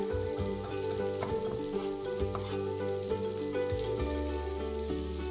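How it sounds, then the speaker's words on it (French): Pork sausages (savourettes) searing in hot butter in a frying pan give a steady, continuous sizzle with a few crackles, heard alongside sustained tonal background sound. "quand notre beurre est bien chaud, on dépose la viande dans la poêle pour lui donner une très belle couleur"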